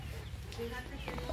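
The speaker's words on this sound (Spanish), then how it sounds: "Ahí está cantando ya el gallo." Chickens cluck and a rooster calls on a small farm in Guatemala, faint and distant chatter of fowl with some talking over it.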